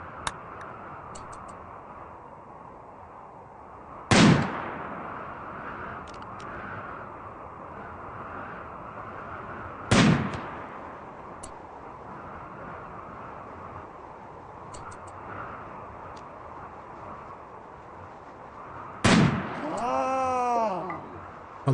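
Three sharp rifle cracks from a lynx hunt in the survival game Chronicles of Rimmick ring out alone several seconds apart over a steady ambient bed, the last followed by a warbling tone.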